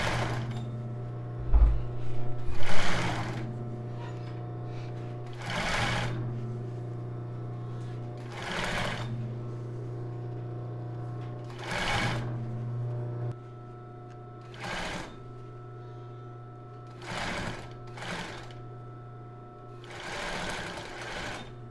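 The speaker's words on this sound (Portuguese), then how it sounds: "o taquara eu vou passar lá na máquina pespontadeira" An industrial straight-stitch sewing machine stitches a bra cup of embroidered tulle in several short bursts with pauses between them, under a steady low motor hum.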